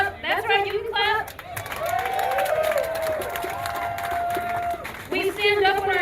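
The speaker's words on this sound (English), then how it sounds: "That's right, you can clap." A protest crowd at a No Kings rally in St. Louis claps and cheers in a sustained, loud swell, with a speaker's voice over it at the start and the end.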